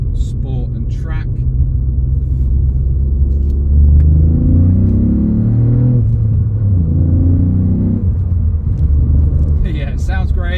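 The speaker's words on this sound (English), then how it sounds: "just to demonstrate the acceleration and the sound." A Ford Fiesta 1.5T EcoBoost ST petrol hatchback engine accelerates with a loud, rising rumble through the gears, heard from inside the car, with a person speaking briefly at the start and end.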